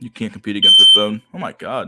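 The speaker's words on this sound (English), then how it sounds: "I think somebody hit the fire alarm or something like that" A building fire alarm sounds as a loud, steady high-pitched tone for about half a second, then short bursts, while people talk over it.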